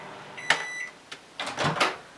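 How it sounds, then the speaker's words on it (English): Microwave oven door handling while steamed breast pump parts are lifted out: a short beep-like tone, then clicks, clunks and rustling bumps in a quick, close, brief sequence. "I'm going to take this carefully out of the microwave"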